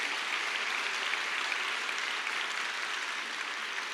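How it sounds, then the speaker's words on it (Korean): A church congregation gives a big round of applause to welcome visiting university guests during a Sunday service, a dense, sustained wash of clapping across a large room, steady and even throughout with no speech. "함께 큰 박수로 환영해 주시기 바랍니다"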